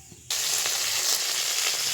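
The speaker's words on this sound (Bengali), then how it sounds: "কড়াই দিয়ে দিয়েছি জিরে ফোড়ন" Cumin seeds hit hot oil in a kadai and burst into a loud, close, steady sizzle that begins suddenly after a short quiet moment.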